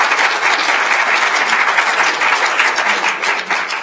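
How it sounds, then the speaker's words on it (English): Sustained applause from an audience at a civil rights summit, a steady dense wash of clapping filling the room at close range with no voices over it. "Thank you for the applause"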